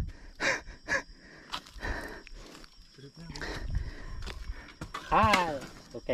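Heavy panting and gasping from an angler, out of breath after landing a toman (snakehead) fish: a series of breathy gasps close to the microphone, mixed with some vocal sounds.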